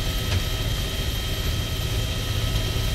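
Steady, continuous rotor and engine drone from a Black Hawk helicopter in a military simulator game, loud and close from inside the aircraft, with no talking.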